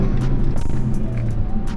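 Engine of a Ford Focus RS on the road during a gentle downshift, a steady low droning hum with road noise throughout, close and moderately loud.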